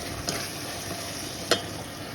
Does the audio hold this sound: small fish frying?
yes